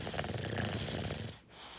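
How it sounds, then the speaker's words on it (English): An English bulldog breathes deeply in a steady rasping snore, close and fairly loud, with rhythmic snorting pulses that fade briefly near the end before resuming. "Oh, those are some, that's some deep breathing, Piggy Puff."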